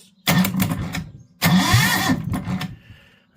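A Lister Petter engine starts with two loud cranking bursts, the second catching briefly before fading, with no talk over it.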